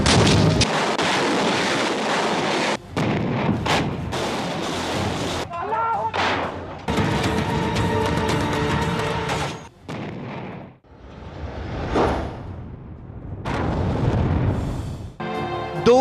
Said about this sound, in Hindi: सरहद पर दुश्मन की फायरिंग जारी है।